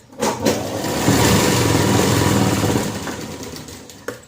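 Sewing machine running steadily as it stitches blouse fabric to its lining, a busy mechanical whir that rises and holds for a few seconds, with a couple of light clicks at start and end.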